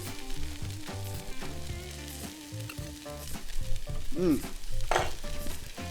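Egg fried rice is tossed in a pan, giving a soft sizzle and scraping stir over background music that swells toward the end, with no voices.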